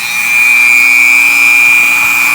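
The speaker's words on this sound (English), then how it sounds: "So hopefully the Dremel tool does the trick." A Dremel rotary tool sands an aircraft flap, giving a loud, steady high-pitched whine that holds at one speed close by for the whole stretch, with no talking.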